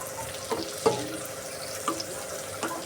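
Chopped onions sizzle steadily in hot oil in a pan, a soft continuous frying hiss with a few sharp stirring clinks and taps spaced through it, close and alone without talk.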